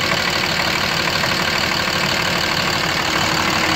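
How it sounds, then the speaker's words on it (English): A 2006 Dodge Ram 3500 dually with a Cummins 24-valve diesel idles steadily up close, a dense, constant rumble with a slight knocking clatter and no pauses. "This motor is the best diesel engine money can buy."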